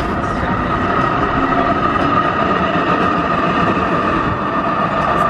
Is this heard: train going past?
yes